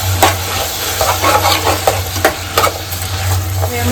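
Spiced undhiyu vegetables being stirred in a pan, with a steady close sizzle and repeated scraping strokes of the spoon and no talking.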